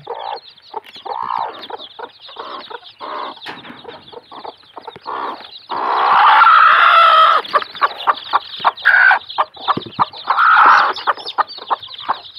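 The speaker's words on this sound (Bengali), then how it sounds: "এখানে টোটাল 60টা মুরগির বাচ্চা আছে।" Native deshi chickens and their chicks on a small farm cluck and peep in a busy cluster, with a loud burst of louder calling and a rooster-like crow partway through, close and continuous.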